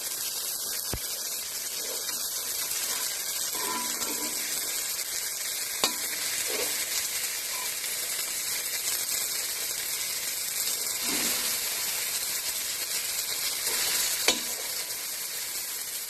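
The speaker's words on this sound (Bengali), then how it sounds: "আমার টমেটো আর বেগুনগুলো সব ভাজা হয়ে গেছে। আগে এক ব্যাগ তুলে নিয়েছি, এখন আর লাস্টে এগুলো তুলে নিচ্ছি।" Tomatoes and brinjals fry in hot oil as they are lifted out of the pan, giving a steady, close sizzle throughout with a few faint scrapes and clicks from the utensil.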